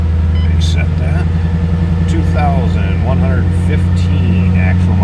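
A supercharged 2005 Ford Mustang Saleen S281 convertible with a 5-speed manual idles close by, its steady low engine hum running under a voice.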